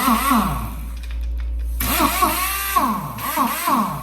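A compact Blue Point pneumatic impact wrench runs in short bursts with a whirring rattle, close up, pausing briefly between runs.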